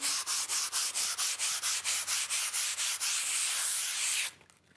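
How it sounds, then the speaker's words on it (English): Rhythmic back-and-forth strokes of fine sandpaper on drywall scrape steadily, about a dozen even passes close up, then stop abruptly. "Take a little fine sandpaper like this and then just gently"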